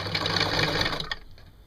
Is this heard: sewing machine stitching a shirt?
yes